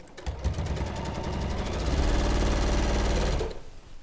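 A sewing machine runs a centre seam with a 1/4 inch allowance in one loud, steady burst lasting about three seconds, then stops abruptly.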